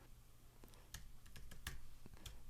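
Typing on a computer keyboard, a short burst of close, light key clicks in an uneven rhythm over a steady background hiss, with no voices.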